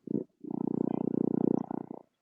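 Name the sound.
cat purring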